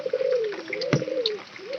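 A pigeon coos nearby in a soft, rolling low call that rises and falls across a couple of seconds, with a brief knock midway and no voices.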